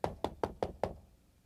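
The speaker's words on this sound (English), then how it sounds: "Knock on my door." Five evenly spaced knocks on a door, sharp and close, followed by a brief fading tail with no talking.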